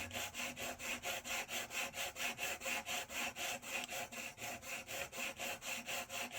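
Steady back-and-forth rasping of 150-grit sandpaper on the wooden hull of a Model Shipways dory model boat, about three strokes a second, close and even throughout with no talking.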